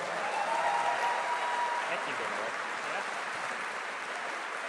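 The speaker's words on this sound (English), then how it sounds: "Give a big round of applause for Marty." A QuakeCon 2009 press conference audience applauds Marty Stratton, executive producer of Quake Live, with dense, steady clapping that fills the hall and fades slightly toward the end, with no clear talk over it.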